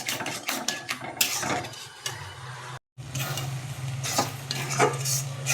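Dal is stirred with spices in a pan, giving repeated scraping and clinking strokes of a spoon against metal over a faint low hum, with a brief silent gap midway.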